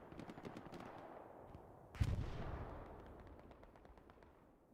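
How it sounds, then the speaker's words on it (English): A bombing run in the Hell Let Loose war game: a sudden heavy explosion blasts midway through, then a long rumbling tail, while distant machine-gun and rifle fire crackles steadily throughout at a fairly low level. "Yep, with the bombing run, here we go."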